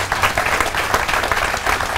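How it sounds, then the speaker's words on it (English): Sustained audience applause fills a business-opportunity talk hall, a dense steady patter of many hands clapping at moderate volume without pause, with a low hum underneath. "Thank you for that huge round of applause."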